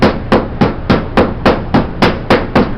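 A hammer strikes the edge of a metal wire edge against a tabletop using hand tools: ten sharp, close, loud metallic blows in a steady, even rhythm, with no talking.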